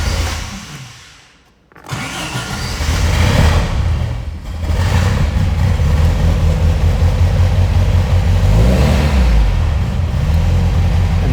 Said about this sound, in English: to start it, we're going to engage the starter here